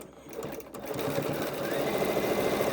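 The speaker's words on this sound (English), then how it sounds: "You might have to slowly help your machine along a little bit." Sewing machine stitching slowly through a thick layer of quilt fabric, a close, steady mechanical whirr with rapid needle clatter that builds and holds.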